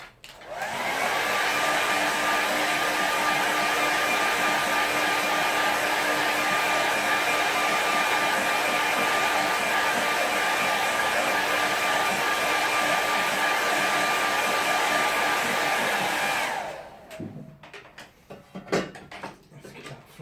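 A hair dryer blows steadily and loudly for about sixteen seconds, drying a watercolour painting, with an even whooshing whine that cuts off near the end, followed by faint handling clatter.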